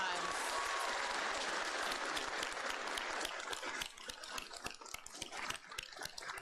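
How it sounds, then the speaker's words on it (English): Students at a Never Again rally give themselves a big round of applause, a loud dense clapping crowd that thins slightly partway through. "I would like for you to give yourselves a gigantic round of applause."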